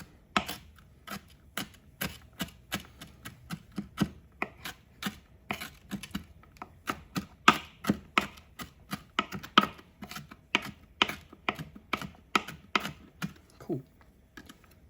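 A knife mincing onion on a cutting board, a steady run of sharp close chops in an irregular rhythm with brief pauses, some louder strokes standing out.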